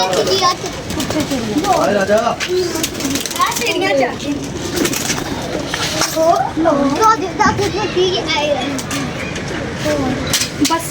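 Pigeons coo softly amid fluttering and rustling in strong wind, with children's and adults' voices talking nearby throughout.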